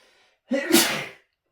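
A single sharp sneeze bursts out mid-game at a tabletop Warhammer 40k session, close and loud, with a brief gasping intake just before it and quiet afterward.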